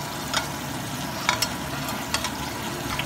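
Beef sizzles in a pan with garlic and onion, a steady close frying hiss with a few soft stirring clatters scattered through.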